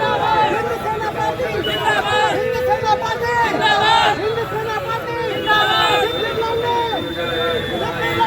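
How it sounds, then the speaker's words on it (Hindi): A crowd of people gathered in Araria to see officer Shivdeep Lande, a dense, loud babble of many overlapping voices with shouts rising and falling throughout. "ऐसे में उनको देखने के लिए लोगों की भीड़ पहले से वहां मौजूद थी।"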